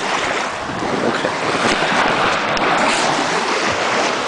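Ocean surf at Destin Beach rolls in a steady, loud wash mixed with heavy wind buffeting the microphone, continuous with no talk.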